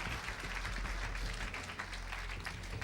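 Applause from an awards ceremony audience for real estate developers, a dense, steady wash of many hands clapping throughout, loud and continuous with a low rumble underneath.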